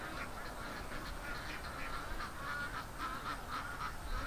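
Ducks in a pen quacking continuously, a dense chorus of overlapping nasal calls at moderate distance, with no talking over them.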